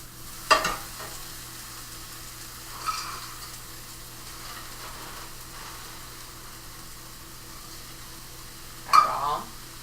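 Onions sauté in a pan with a steady, quiet sizzle, broken by a few brief stirring clatters near the start, middle and end.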